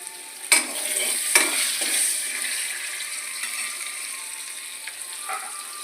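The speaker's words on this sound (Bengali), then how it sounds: "এর ভিতরে দিয়ে দেবো এক টুকরো দেখুন চুই ঝাল, একসঙ্গে আলুর সঙ্গে ভাজাই যাবে" Potatoes fry with a piece of chui jhal stem in a pan, giving a soft steady sizzle and hiss with a few sharp stirring clatters near the start, close and moderately quiet, with no talk.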